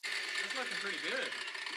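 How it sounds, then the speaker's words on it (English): A grinder runs while a Foxbody 8.8 rear axle swap is being fabricated. A continuous high, buzzing whine lasts throughout, with voices talking over it. "That grinder does work."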